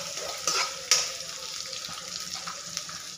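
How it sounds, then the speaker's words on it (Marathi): Garlic paste sautés in oil in a pan, giving a moderate, steady hiss and sizzle with a couple of sharper spoon clicks and spatters, fairly close and with no talking. "लसूणची पेस्ट व्यवस्थित परतून घ्यायची"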